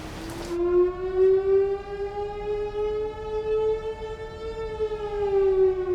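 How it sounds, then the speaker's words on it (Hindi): A prison alarm siren wails across a jail, its rising tone holding loud and steady with a slight waver after a brief noisy burst at the start, with no voices. "सायरन की आवाज पूरी जेल में गूंज रही है।"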